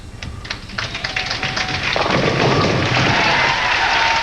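At a 1999 professional women's bowling tournament, a ball rolls down the lane and strikes the pins on an opening shot, building to a loud, clattering crash amid arena ambience.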